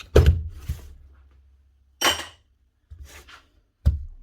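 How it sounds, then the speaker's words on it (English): A Makita HM0810T demolition hammer, repaired after a jammed impact bolt, fires in short separate bursts: a sharp clattering strike, then brief hits and pauses, close and fairly loud with silence between. "One Makita HM0810T hammer."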